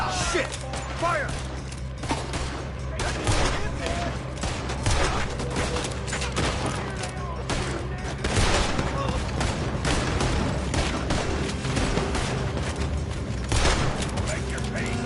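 Red Dead Redemption 2 shootout with a continuous, dense rattle of gunfire and repeated sharp shots over mechanical clatter. Voices shout briefly through the chaos.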